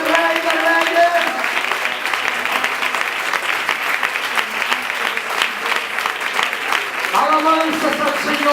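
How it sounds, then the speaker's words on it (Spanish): Loud, sustained applause fills a church congregation, steady dense clapping running throughout with voices and shouts mixed in above it. "Fuerte ese aplauso para el Rey de Reyes"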